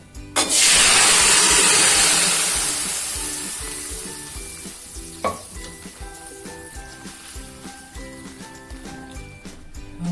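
Kidney beans hit a hot asafoetida tempering for rajma, setting off a loud sudden sizzle that slowly fades into steady frying with light stirring clinks.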